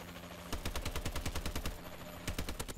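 Rapid automatic gunfire from Call of Duty: Advanced Warfare rattles off in quick bursts of sharp shots, fairly close, with a brief pause before another short volley.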